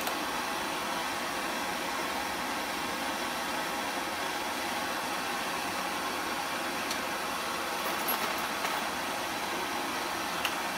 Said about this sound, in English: We'll see if we can get this little temperamental gas torch going.